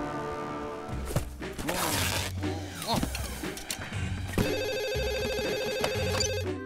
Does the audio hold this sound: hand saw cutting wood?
no